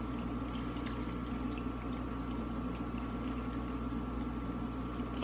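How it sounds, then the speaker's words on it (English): Pickling brine pours steadily into a jar of dill pickles with garlic in a soft, continuous trickle, fairly quiet and close, with a faint background hum. "you just go ahead and pour."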